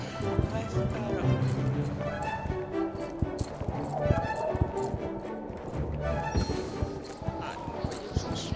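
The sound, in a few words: horse hooves galloping in video game Star Stable Online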